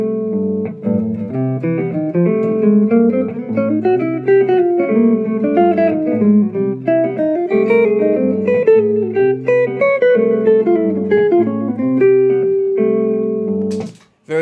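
Jazz guitar plays a turnaround through substitute dominant chords, a steady run of warm, clean chord voicings and melodic lines moving continuously for about fourteen seconds before ending abruptly.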